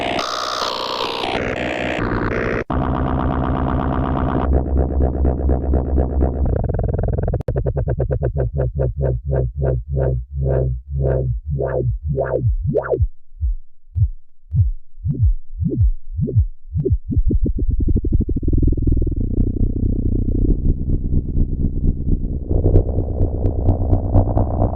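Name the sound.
synthesizer with reverb effect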